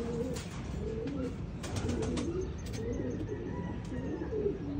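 Racing pigeons at their loft coo over and over in a steady, overlapping chorus, fairly close and moderately loud, with occasional soft chirps mixed in.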